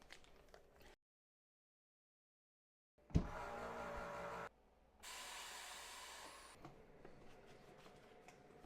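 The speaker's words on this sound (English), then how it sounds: "We're going to fire up our chamber vacuum sealer and seal it up." A short silence, then a chamber vacuum sealer kicks on with a loud whirring hum, pauses, and a second long hissing rush follows before fading to quiet as it seals a bag of ground beef.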